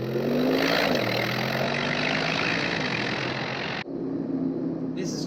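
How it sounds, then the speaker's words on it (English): A 2019 Mercedes-AMG G63 engine revving loudly up close, a rising roar that holds before cutting off sharply near the end and settling into a lower drone. "This is just such a great engine."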